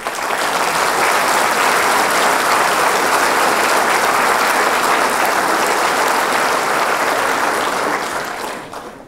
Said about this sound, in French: Eux aussi, on peut les applaudir.